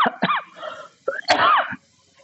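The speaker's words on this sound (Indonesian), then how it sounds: "Batuk." Several harsh, throaty coughs in quick bursts, a short pause, then a longer rough cough, close and fairly loud with no speech.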